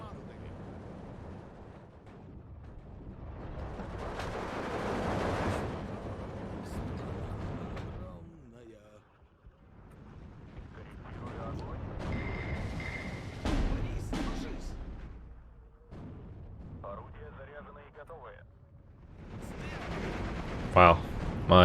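Mortar and artillery fire in the video game Steel Division 2, several booming blasts and rumbling explosions rising and fading across the battle, with a voice talking over it at times.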